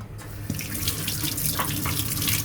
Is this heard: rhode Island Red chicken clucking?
no